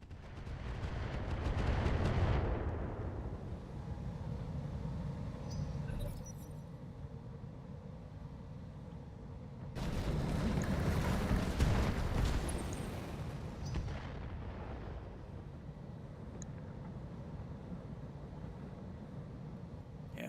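Artillery fire in a BattleTech mod battle, with heavy booming barrages that swell near the start and again midway, over a constant rumble of combat noise and distant impacts.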